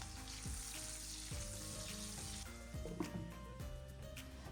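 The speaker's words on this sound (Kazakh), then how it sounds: "Табаға май құйып қыздырып, қызып тұрған майға алдымен пиязды салып қуырып аламыз." Chopped onion fries in hot oil in a pan with a continuous, dense close sizzle that stays even throughout, with faint tonal music underneath.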